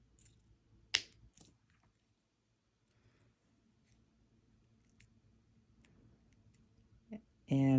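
Snips cutting jewelry wire for earring loops: a couple of crisp, close clicks early on, then near-quiet desk sounds and a few faint ticks, ending with a brief louder noise.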